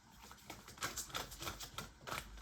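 Rapid crisp flutters of a deck of cards being shuffled close by, in several quick bursts with short pauses between them.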